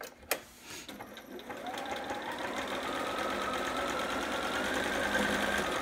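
A sewing machine runs steadily while back-stitching a seam on a Riley Long John sitter, its fast mechanical whir building up after a couple of brief knocks and holding continuously to the end.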